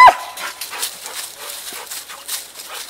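A dog barks at a groundhog up a tree at a distance, sharp intermittent yelps scattered over faint outdoor background noise, with no one talking.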